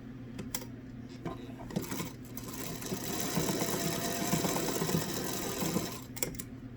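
A sewing machine stitches a fabric mask in short bursts of rapid mechanical clatter, swelling into a longer steady run before stopping, close and moderately loud.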